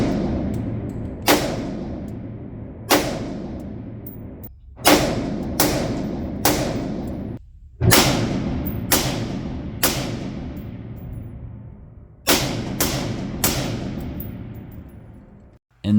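Suppressed 5.56 rifle shots through a SOCOM Mini 2 suppressor, a dozen or so loud close cracks in irregular clusters, each followed by a long decaying range echo.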